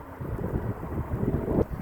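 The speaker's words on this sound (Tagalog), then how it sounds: "Lakas pati ng hangin." Strong wind during snowfall buffeting the microphone in a steady low rumble, gusting slightly louder toward the end.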